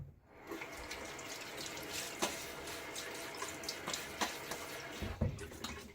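Cold, hard tap water running steadily into a sink while hands scoop and splash it onto a face before a wet shave, with a few sharper splashes and a louder splash near the end, close and alone.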